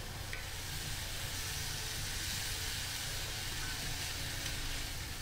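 Snakehead fish (veral) frying in oil in a pan on a stove, a steady dense sizzle with continuous crackling spatter that holds at an even level throughout, with no voices.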